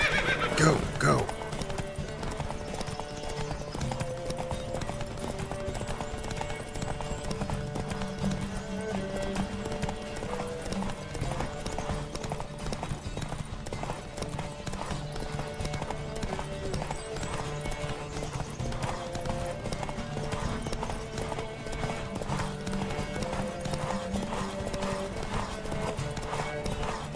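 Horses galloping in a race in The Witcher 3 video game, continuous loud hoofbeats with a neigh at the start, backed by steady game music and occasional voices.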